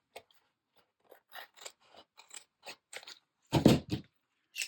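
Scissors snip through a small piece of material, a run of sharp, crisp cuts at an irregular pace, close and clear against silence, ending in a louder cluster of crunchy snips.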